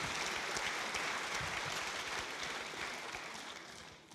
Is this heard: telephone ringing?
no